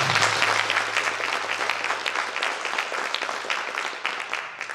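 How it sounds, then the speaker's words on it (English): Steady, dense applause from a school board candidate forum audience in Madison, many hands clapping together at an even level for nearly five seconds with a low hum beneath. "let's give our candidates a round of applause"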